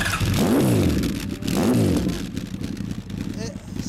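A 1997 Honda X4 four-cylinder motorcycle with a Supertrapp aftermarket exhaust revs sharply twice, rising and falling in pitch, then settles into a rough, throaty idle close by.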